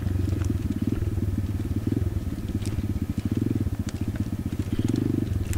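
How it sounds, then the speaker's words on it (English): An Apollo RFZ 125cc pit bike rides down through a slash pile on a trail, its small single-cylinder engine putting out a loud, steady, rapid burble close up, with faint crackles of brush and debris on top. "So here we're really just riding down through like some slash pile, trying to get back out to the main road."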